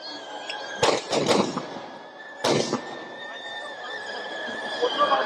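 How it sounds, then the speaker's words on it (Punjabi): Fireworks go off during Dussehra as the Ravan effigy burns, with a quick cluster of sharp bangs followed by another burst a moment later, fairly close, over a continuous crowd murmur. "ਦ੍ਰਿਸ਼ੀ ਮੈਦਾਨ ਦੇ ਵਿੱਚ ਤੁਸੀਂ ਦੇਖ ਸਕਦੇ ਹੋ ਆਤਿਸ਼ਬਾਜੀ ਕੀਤੀ ਜਾ ਰਹੀ ਹੈ"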